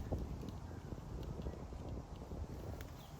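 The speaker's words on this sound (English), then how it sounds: "It's too windy." Steady wind buffeting a nearby microphone, a continuous low rumbling roar with no pauses.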